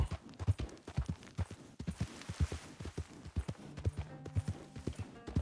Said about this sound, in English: Tá acalmando o cavalo, tá ficando cansado, coitado.